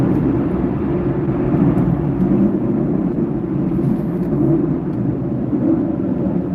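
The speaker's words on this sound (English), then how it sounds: "Let that jet get past us." A jet aircraft roars past outdoors as a loud, steady low rumble that holds without a break for several seconds, with no voices over it.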